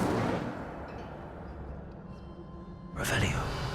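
A fire spell cast in Hogwarts Legacy erupts in a single loud, fiery burst near the end, following a stretch of steady low ambient rumble.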